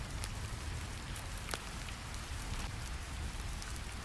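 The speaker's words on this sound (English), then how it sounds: "Rain sounds drift through stone windows." Steady rain patters through stone windows into a blacksmith's workshop, a dense continuous hiss and drip at moderate level with a few brief louder drops, no voices.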